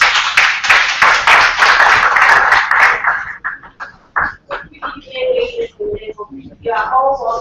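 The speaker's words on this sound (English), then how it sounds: "Let's welcome him with a round of applause." An audience at a public lecture on safe blood for mothers claps in a loud, dense burst for about three seconds, then it stops abruptly and a person begins talking.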